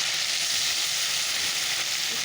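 Mustard paste and chili going into a hot pan for a mustard fish curry, a dense close sizzle and hiss that holds steady for a couple of seconds.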